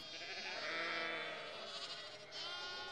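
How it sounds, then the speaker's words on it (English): Baby lambs on a farm bleat in a long, wavering, close cry that trails off and is followed by a second bleat, with no talking over them. "We live on a farm and we have lots of sheep and lambs."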